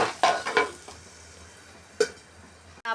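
Peas with a little turmeric being stirred in a pan for Marathi-style matar poha, with a few close scraping strokes early on, another at two seconds, and a steady low sizzle in between.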